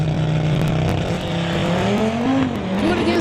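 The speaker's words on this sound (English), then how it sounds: "Malia in the 2018 Audi RS3 from Coquitlam." A 2018 Audi RS3 races a BMW at a street-legal drag event, engines loud and close with rising revving tones as the cars accelerate, plus a brief tire squeal, no talk.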